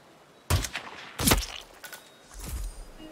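Sniper rifle fired in the video game Hitman 2 on a snowy Austrian mountain mission: two sharp distant-sounding shots about a second apart, with a softer thump and rumble following a moment later.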